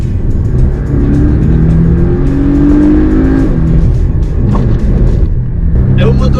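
A Porsche 718 Boxster S engine pulling hard toward 7000 rpm, a loud, close roar whose pitch climbs steadily before easing off, with talking over it.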